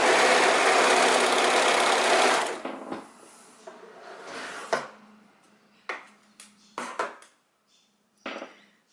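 A sewing machine stitches a scarf top in a steady, loud whir for about two and a half seconds, then stops, followed by scattered clicks and knocks of fabric and machine handling.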